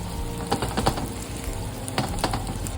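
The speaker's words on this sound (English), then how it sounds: "Add the tofu and fry it until it's golden brown" Diced firm tofu frying in about two tablespoons of oil in a wok over medium-high heat, a steady close sizzle with occasional soft pops and scrapes.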